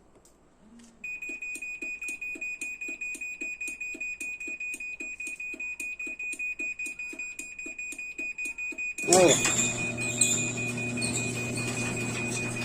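A high electronic beep repeats rapidly and steadily for several seconds as a garage door opener's warning, then a loud mechanical rumble of the door motor starts up and continues.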